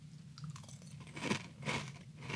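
Crunchy Special K pumpkin spice cereal with flakes and clusters is chewed close up, giving a few dry, crackling bites and munches in quick, uneven bursts.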